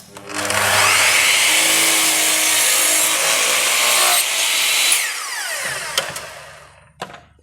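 A radial arm saw is pulled through a piece of wood. A loud, close, rasping whine holds for about four seconds, then the blade winds down and ends with a couple of sharp knocks.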